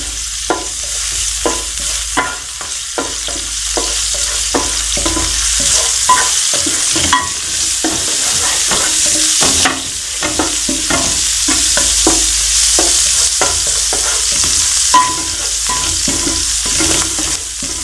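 Minced garlic sautés in a pan for chicken manchurian. A loud, steady sizzle runs throughout, punctuated by a brisk, rhythmic series of spatula scrapes and clicks against the pan.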